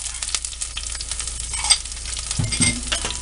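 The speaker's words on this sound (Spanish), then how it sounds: "Ahora voy a agregar el aceite para que se empiece a calentar y freír los chiles y la cebolla." Chiles and onion fry in hot oil, a continuous close sizzle with light stirring and a few clinks of a utensil against the pan throughout.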